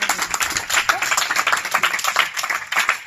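A church congregation claps and cheers in praise at a worship service, a dense, steady wash of applause filling the room with voices mixed in throughout.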